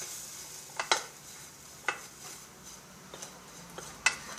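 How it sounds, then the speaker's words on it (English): A spoon stirs salt and pepper into breadfruit cooking in a pan, quiet and close, with a few sharp scraping clicks against the pan spaced about a second apart over a soft steady sizzle. "A little bit of salt, a little bit of pepper, give it a stir."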